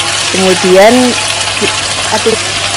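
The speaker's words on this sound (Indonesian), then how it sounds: "kita akan tumis lagi sampai nanti aromanya harum banget dan teksturnya juga sudah mulai agak kering" Soy-sauce-seasoned beef stir-fried with green and red chilies and green tomatoes sizzles steadily in a pan, a constant frying hiss running underneath a person talking.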